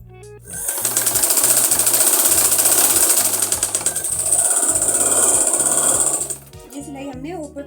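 A sewing machine stitches an Afghani salwar in fast, loud, close runs with a brief pause midway. A voice is heard briefly at the end.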